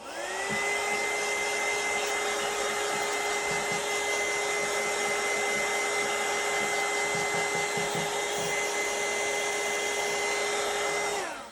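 A hair dryer blows on glue in a craft journal, starting up, holding a steady whirring whine for about eleven seconds, then cutting off, close and alone.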